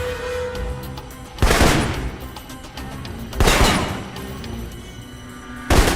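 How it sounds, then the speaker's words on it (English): Assault rifle fire in the video game Alpha Protocol, three loud sharp bursts spaced a couple of seconds apart over a low ambient game background. "the assault rifle's the key."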